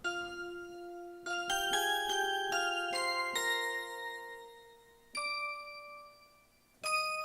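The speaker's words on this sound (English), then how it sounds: "That part there, I want to go ahead and outline that with chimes as well." Bright chimes struck in a gospel track part, ringing in a quick run of overlapping notes, then two single sustained strikes that decay slowly.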